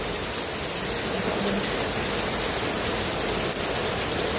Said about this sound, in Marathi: आणि मुसळधार पाऊस आहे.